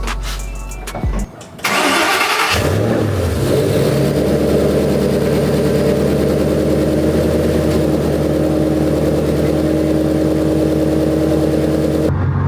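A GT car fitted with a drag pack cranks briefly, catches and fires up, then settles into a loud, steady, rumbling idle close by.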